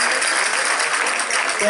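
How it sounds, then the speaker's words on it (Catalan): Dense applause from a gathered crowd at a Catalan community meeting in Cervera, a continuous loud burst of clapping that fills the whole moment. "un fort aplaudiment per ell"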